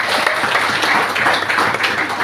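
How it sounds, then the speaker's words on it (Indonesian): Church congregation applauding during a Christmas sermon, a loud, dense burst of many hands clapping continuously without pause. "Tepuk tangan buat mama."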